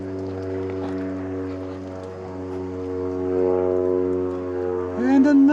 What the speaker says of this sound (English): And another aeroplane.